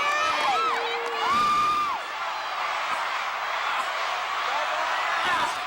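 Wrestling arena crowd cheering during a match, with loud whoops and shouts rising over a continuous roar of a large audience, under and between announcer commentary.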